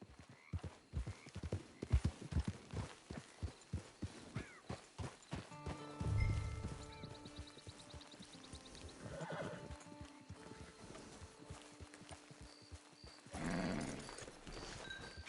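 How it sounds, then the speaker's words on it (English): A horse in the video game Red Dead Redemption 2 walks with a quick run of clip-clopping hooves, then gives two snorting neighs and whinnies, fairly quiet and close. "It's your horse."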